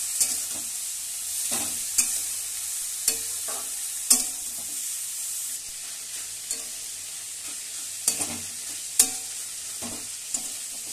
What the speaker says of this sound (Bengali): এখন চিচিঙ্গাগুলো দিয়ে দিচ্ছি।